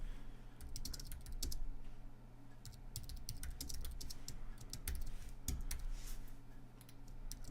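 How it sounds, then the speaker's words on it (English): Steady typing of Python code on a computer keyboard, a run of quick, fairly close key clicks with small pauses and a few sharper taps, heard alone without speech. "actually we'll just type this out"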